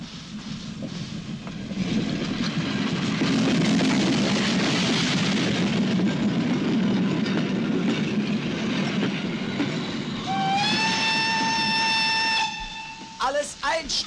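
An East German NVA military train behind a class 42 steam locomotive rumbles past loudly, then a long steam whistle blast sounds near the end, followed by brief hissing and clanks.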